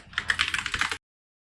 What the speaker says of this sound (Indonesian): Nah sekarang kita ketikkan lagi git remote min v untuk ngecek koneksi online-nya